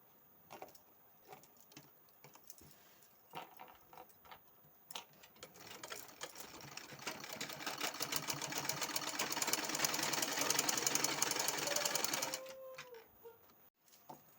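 A sewing machine stitches the shoulder seam of a kurti. Scattered clicks and taps build into a loud, continuous rapid whir lasting about seven seconds, then stop abruptly; no voices are heard.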